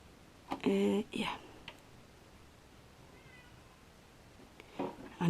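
A house cat meows twice in a fabric-crafting room, first a drawn-out, fairly loud call, then a shorter one, with another brief meow near the end and quiet room tone between.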